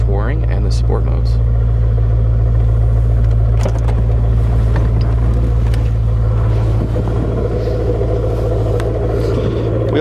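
Stock exhaust on a 2004 Corvette convertible with a six-speed manual gives a steady, loud, deep rumble throughout, with someone talking over it.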